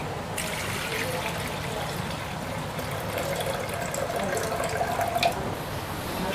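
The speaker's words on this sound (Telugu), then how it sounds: "బియ్యాన్ని ఆల్రెడీ ఒకసారి కడిగేసాను మళ్ళీ ఒకసారి కడిగేసి" Soaked rice being washed in water for onion biryani, steady trickling and sloshing of water in a vessel throughout, fairly close and continuous.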